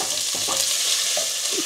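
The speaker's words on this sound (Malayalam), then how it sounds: "നന്നായിട്ട് വഴറ്റണം." Crushed ginger, garlic and curry leaves sautéing in a pan, giving a dense continuous sizzle with soft stirring scrapes, close and loud, no talking.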